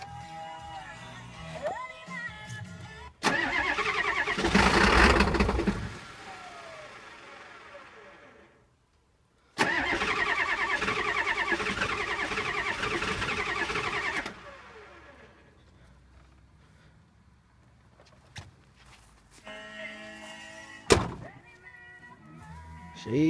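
A cold 7.3 diesel engine that has sat for about two weeks cranks in two long bursts of a few seconds each, loud and close, with quiet gaps and talk between attempts and a sharp thunk near the end.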